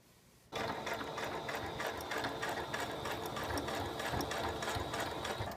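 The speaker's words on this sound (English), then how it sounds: "I'm going to take my little circle and I'm going to stitch around." A sewing machine starts up after a brief quiet moment and runs steadily, stitching around a round fabric patch on a face mask, its rapid mechanical chatter loud, close and continuous with no talking.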